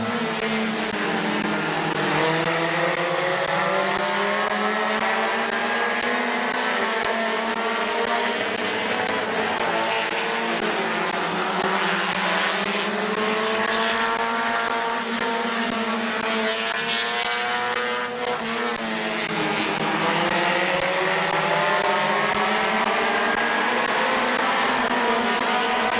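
Race cars lap a speedway oval, a loud continuous roar of engines rising and falling as they pass through the turns, close and dense for the whole stretch with no clear breaks.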